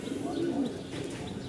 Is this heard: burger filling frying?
no